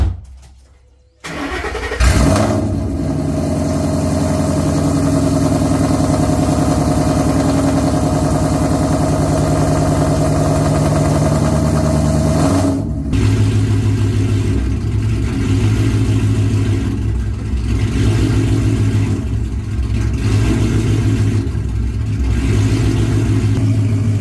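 A Ford Mustang Boss 302 running on E85 cranks and fires up, then holds a loud, steady idle nearby with a brief dip and a slightly rougher, deeper idle afterward.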